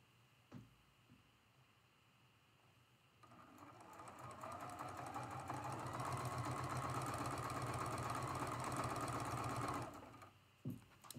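A sewing machine stitches a traditional Fan Dance quilt block, starting after a few quiet clicks, whirring steadily and growing louder for about six seconds, then stopping with faint handling taps.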